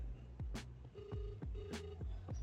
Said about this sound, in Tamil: நெக்ஸ்ட் ஃப்ரெண்டு கால் பண்ணிடுறேன்.